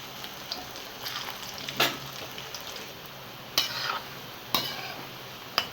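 Pinched pieces of dried pea dough deep fry in hot oil, a continuous close bubbling hiss broken by a few louder splashes and sizzles as more pieces drop in.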